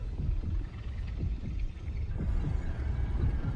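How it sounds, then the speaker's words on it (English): A ship in the space game Star Citizen gives off a low, throbbing heartbeat-like pulse, a steady rumbling beat heard alone across a few seconds. "this ship makes a heartbeat"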